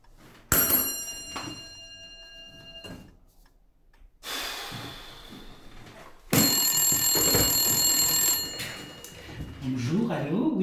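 A telephone rings at a hotel reception desk, several loud bursts of ringing separated by brief gaps, with room noise around them.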